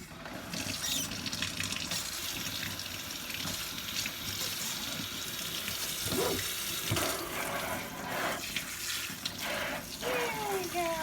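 Bath water draining from a tub or sink after a cat has been washed, a steady close gurgling wash of running water with a few brief squeaks near the end.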